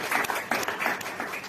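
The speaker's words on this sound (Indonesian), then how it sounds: "Beri tepuk tangan buat Tuhan Yesus." A church congregation claps together in a short, rhythmic burst, heard at a moderate distance and fairly faint, with no speech over it.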